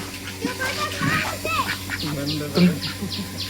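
Ducks quack in short nasal bursts on a dairy farm amid a hum of background noise, with other bird calls and faint voices mixed in.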